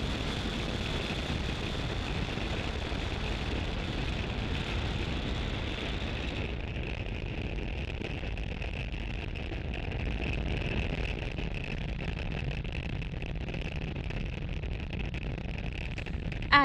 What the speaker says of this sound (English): Falcon 9 has successfully lifted off from Space Launch Complex 40 at Cape Canaveral, Florida